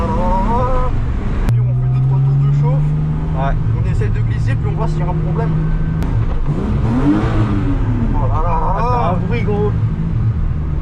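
A BMW E36 drift car engine revs and drones on warm-up laps, loud and close, with the pitch climbing and falling, while voices talk over it.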